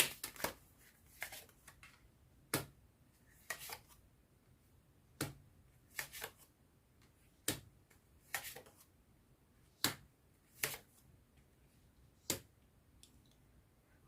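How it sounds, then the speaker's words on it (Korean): Oracle message cards drawn from a deck one at a time, a series of sharp, close snapping flicks spaced irregularly over a quiet room background. "주별로 자세한 조언의 메시지 카드 뽑아보도록 할게요"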